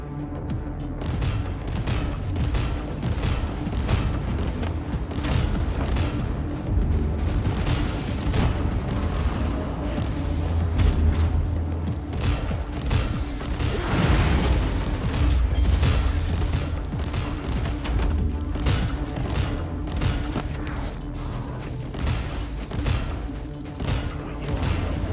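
Frag shells burst repeatedly in the video game Warhammer 40,000: Inquisitor - Prophecy, booming explosions and crackling blasts rolling over a continuous dense din of combat for a long stretch.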